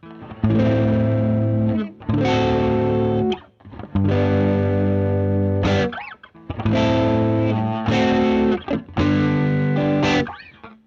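Electric guitar played through distortion with both pickups selected and the tone knob turned up, strummed chords in short bursts separated by brief pauses, bright and sustained, no voices.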